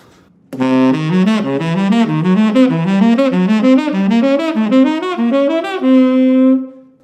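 An instrument plays a rapid, even run of arpeggios built on the diminished scale, note after note stepping up and down for about six seconds, loud and clean, ending on a held tone.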